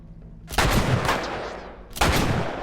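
Two loud, sharp gunshots from a weapon in The Last of Us Remastered, roughly a second and a half apart, each with a short ringing tail and no talking.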